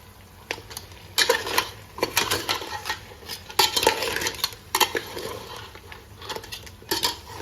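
Crabs being stirred and sautéed in masala in a pot, with irregular loud metal spoon scrapes and clatters against the vessel over a faint low sizzle, no talking.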